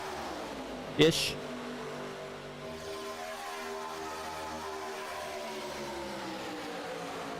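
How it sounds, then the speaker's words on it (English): ARCA race cars at Daytona in iRacing hold a steady engine drone with shifting pitch, with a short sharp clack early on. A commentator speaks briefly over the engines. "there's just something about hearing those ARCA scream, man"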